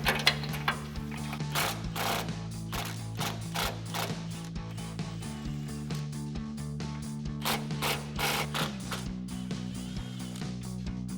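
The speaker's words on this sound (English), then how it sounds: "So now we're gonna take a 15mm swivel socket to remove my 2 nuts in the center section of" A ratchet with a 15mm swivel socket clicks rapidly and steadily, close by, while taking off nuts on a truck cross member, with a low mechanical hum underneath.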